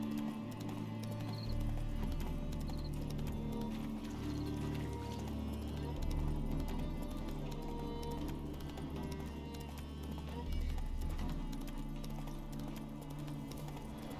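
Roach, a horse in The Witcher 3, trots with a steady clip-clop of hooves that carries on for the whole stretch over a dense, continuous backdrop of game ambience and music.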